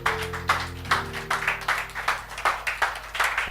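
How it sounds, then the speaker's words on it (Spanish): Church congregation clapping for Christ at a Spanish-language sermon, moderately loud with irregular bursts of hand claps over a lingering organ or keyboard tone that fades out early. "Dale un aplauso a Cristo."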